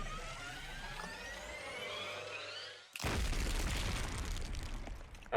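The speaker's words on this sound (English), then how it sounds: "a vicious explosion echoed through the gym" An explosion rips through a gym in the video game Hundred Line: Last Defense Academy: after a faint whirring tone, a sudden loud blast erupts and rumbles on with a long, noisy roar to the end.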